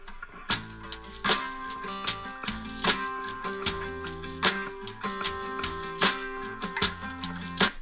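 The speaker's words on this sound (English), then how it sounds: "check to see how your mix translates to a smartphone speaker" Music with sharp percussive hits and sustained tones plays through a simulated smartphone speaker, small and thin-sounding, steady and moderately quiet with no voices.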